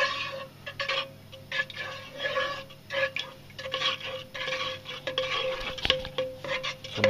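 Spoon scraping and clinking against a pot while three ingredients are mixed over low heat, an uneven run of light taps and scrapes that continues without pause.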